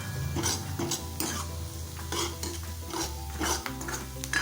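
Onions with a few curry leaves sautéing in a pan for dhaba-style shev bhaji, a steady sizzle with repeated stirring scrapes and light clinks of utensil against the pan, close and continuous with no voices.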